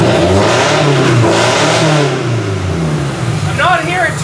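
A 1999 Toyota Camry demolition derby car with headers revs its engine up close, loud rising and falling throttle blips that ease toward a rough idle, while people talk over it.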